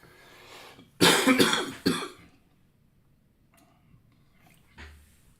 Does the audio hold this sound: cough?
yes